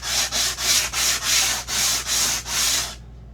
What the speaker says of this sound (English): We just keep sanding on this edge.